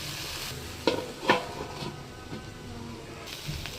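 Okra fries in a pan on a slow flame, a quiet continuous sizzle with a couple of sharper stirring knocks and scrapes early on, then softer occasional taps.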